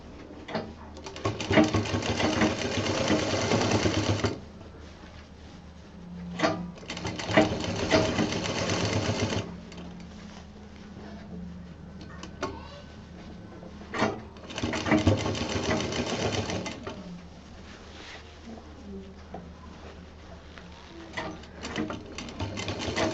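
A sewing machine stitches a fabric fun time bag in three separate close bursts of several seconds each. Quiet pauses with faint handling noises fall between the runs.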